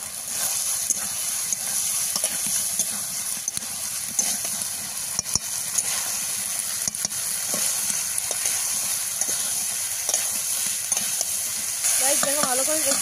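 Soybeans stir-fry in a pan for a spiced Bengali dish with taro, giving a steady close sizzle under repeated scraping and stirring clatter throughout.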